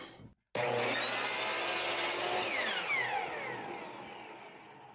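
A power saw blade bites into a piece of wood held in a jig, trimming off the tip in one continuous loud whine and rasp that starts abruptly, then tapers slightly as the cut finishes.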